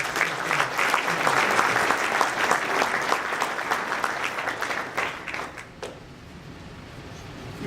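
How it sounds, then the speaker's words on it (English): Sustained audience applause at a community awards event put on by a local Exchange Club, heavy clapping that holds for about five seconds and then thins out to scattered claps and room murmur. "another round of applause for putting this event together"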